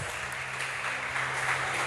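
Steady crowd applause at a church service, dense and continuous, with many hands clapping together at moderate distance.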